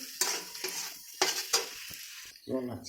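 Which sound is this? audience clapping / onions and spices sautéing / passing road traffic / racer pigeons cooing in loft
onions and spices sautéing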